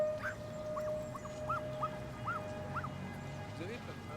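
Puppies give faint high yips and whimpers, a series of short squeaky calls spaced about half a second apart, quiet under a low background hum.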